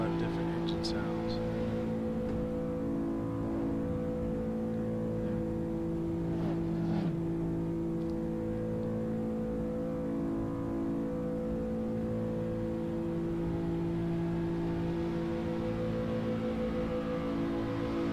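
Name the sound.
cars' engines in the racing video game Shutoko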